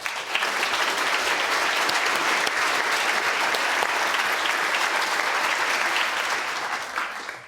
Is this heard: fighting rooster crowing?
no